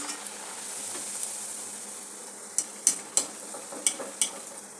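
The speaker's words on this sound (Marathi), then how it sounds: "तर पुरी तळून घेऊया." Puris deep-frying in hot oil over medium heat give a steady soft sizzle, with a cluster of sharp bubbling pops and crackles toward the end.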